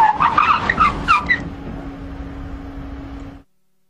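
A car fitted with Monroe shock absorbers brakes hard with ABS pulsing from 80 km/h in a collision avoidance track test, giving short chirping tyre squeals over engine hum that fade to a low drone before cutting off.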